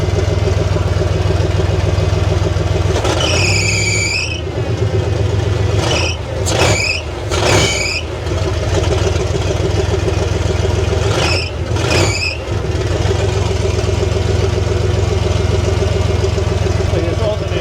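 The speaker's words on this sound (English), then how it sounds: "Power steering pump's whining." A big block Bronco engine idling steadily up close, with a power steering pump whining in short rising and falling bursts over the low rumble.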